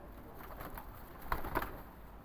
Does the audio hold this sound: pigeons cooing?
yes